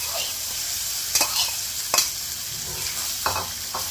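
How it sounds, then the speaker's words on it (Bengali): Spiced beef mince for samosa stuffing fries in a pan with black pepper and cumin, a steady sizzle broken by a few sharp scraping stirs of the spoon, close and clear with no talk. "এখন মাংসটা দিয়ে আমি কিমাটা স্টাফিংটা তৈরি করে নেব।"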